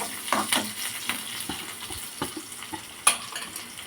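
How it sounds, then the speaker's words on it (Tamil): Soft sizzling of spices tempering in hot ghee in a pan, with occasional stirring clinks and scrapes of a utensil against metal, no talking. "நான் நெய் விட்டு தாளிக்கிறேன்"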